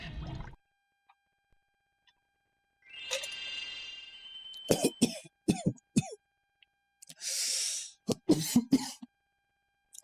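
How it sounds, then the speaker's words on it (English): Coughing and throat clearing after swallowing wrong, a harsh clearing followed by a burst of several close, loud coughs, then a breathy rasp and more hacking coughs in quick succession. "Expect me to clear my throat a lot."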